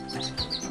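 Bird chirp sound effect: a few quick, bright tweets in close succession, clear and alone with no talk.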